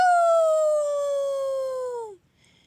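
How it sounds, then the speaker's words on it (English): A single long, eerie howl rings out loud and clear, sliding slowly downward in pitch before cutting off into near silence. "An eerie howl filled the air."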